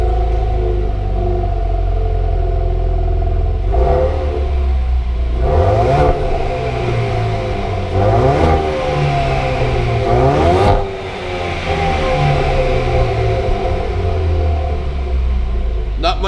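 A Chevrolet Camaro with a 2.0-litre turbocharged inline-four is revved several times, each rev rising and falling over a steady idle drone, loud and close, with people talking over it.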